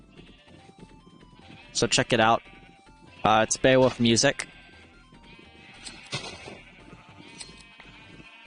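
Sheep bleating in the Minecraft video game, two bursts of wavering bleats in close succession followed by a fainter one, with someone talking over quiet background music.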